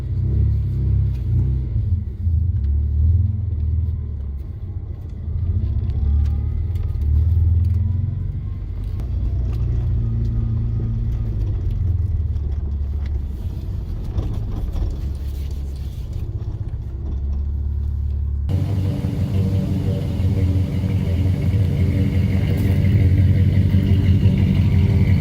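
A car engine with a lumpy camshaft idles in a low, uneven rumble that continues steadily, fairly close, with no talking.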